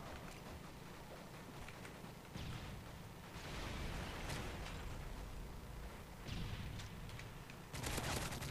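Shotgun fire in Call of Duty MW3 during a free-for-all match: rumbling, booming blasts under a constant noisy game bed, with a sharp burst near the end.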